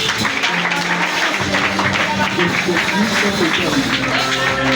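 A church congregation at a prayer and prophecy service cheers and claps, a loud dense crowd roar with scattered applause under a singing, calling voice.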